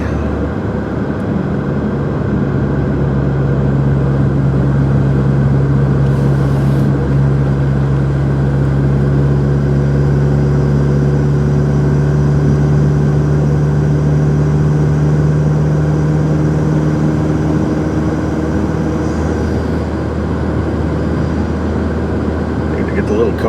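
A car drives in moving traffic, its engine and road noise a loud, steady drone close by. A sustained humming tone rises gradually and then fades.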